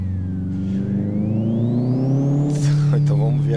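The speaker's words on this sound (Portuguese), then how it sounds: "Barulho do motor." A Corsa turbo car engine in Live for Speed holds a steady droning idle, then rises in pitch as it revs, with a high turbo whine sweeping up and down above the engine tone.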